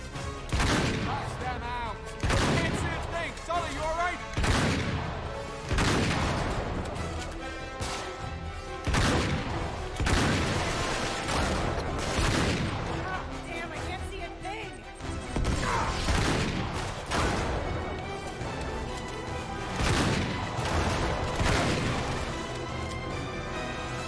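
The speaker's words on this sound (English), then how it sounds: "I've only got the shotgun again." Shotgun blasts and gunfire ring out in Uncharted 3: Drake's Deception, heavy booming shots landing every second or two in a loud, continuous battle din.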